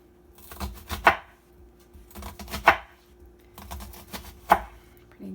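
A knife chops an onion on a board in three short bursts of quick, close taps, each ending in a sharper knock, with quiet gaps in between.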